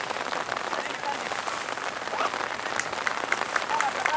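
Rain falling on umbrellas at a suspended second-division football match in Bariloche, a dense steady patter close by with scattered drops tapping on top.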